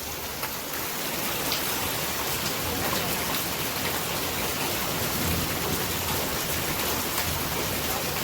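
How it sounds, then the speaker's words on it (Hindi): Heavy rain pours down outdoors, with roof runoff spilling onto soil, making a steady, dense hiss that holds at an even loudness throughout, with no voices. "देखो बाहर कितना तेज बारिश हो रही है।"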